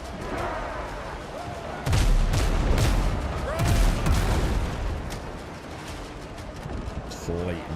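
Ship cannon fire in the naval video game Windrose, a few heavy booming blasts and rumbling impacts in a battle mix, with a voice talking throughout.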